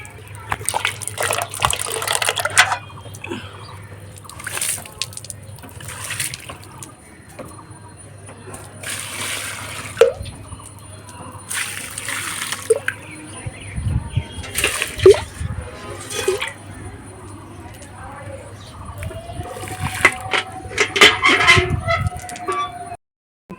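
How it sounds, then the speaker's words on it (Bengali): Water splashing and gushing in bursts as flowers are watered by hand, separate pours with pauses between them, close by, with someone speaking at times and a low motor hum underneath. "মাত্র কটা ফুল চলো আগে জল দিই"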